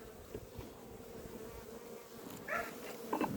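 Honeybees buzzing steadily at an open hive during a spring colony inspection, a continuous low drone with a few brief louder insect passes near the end, no talking.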